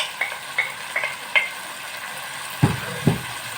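Kangkong (water spinach) stalks stir-frying in a hot pan, with a steady soft sizzle, a few light rhythmic ticks of a utensil, then two duller thumps, no talking.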